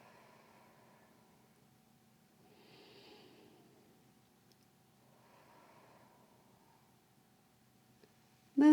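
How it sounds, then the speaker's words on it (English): Three slow, deep breaths are drawn in and let out softly in a quiet room, each one a faint, airy rush spaced a couple of seconds apart. "Take 3 deep breaths."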